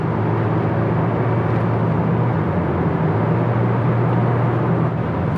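A 2020 Mazda CX-30 with a 2.0L engine holds high revs, a steady, fairly loud engine drone with road noise heard from inside the cabin, continuous and unchanging.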